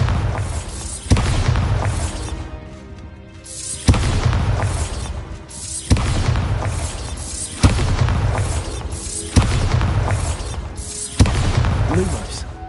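Bombarda exploding spell cast in the video game Hogwarts Legacy: a series of about six loud, booming blasts at a steady pace, each followed by a rumbling decay, with talking in the background.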